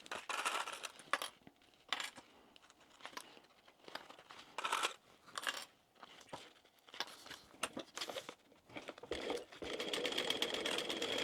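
A sewing machine runs in bursts of stitching while basting fabric pieces for a small crossbody wristlet bag, with short pauses and handling noises between runs and a steadier stretch of stitching near the end.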